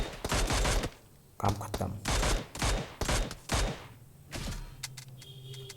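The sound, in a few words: gunfire in the video game PUBG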